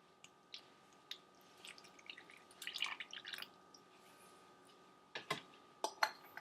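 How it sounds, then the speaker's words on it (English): Water is poured into a container holding ice, giving faint drips, a short trickle and light clinks and clatters of ice against the container. Quiet and close, set apart by short pauses. "put the same amount of water into the ice on land container"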